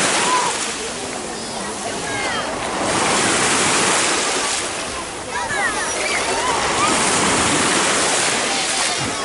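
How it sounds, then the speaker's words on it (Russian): Sea waves wash onto the beach at Lloret de Mar, a steady, loud surf roar with swelling and easing breakers, wind buffeting the microphone, and a voice talking over it at moments. "Приятно так море шумит, да?"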